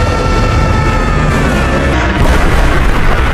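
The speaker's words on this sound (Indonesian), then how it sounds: "Tak lama ledakan cahaya keluar dari dalam tubuh Asep yang menyebar ke seluruh bumi." A film sound effect of a burst of light erupting from a body and spreading across the earth: a loud, sustained roaring blast that fills the whole clip with dense rumbling noise.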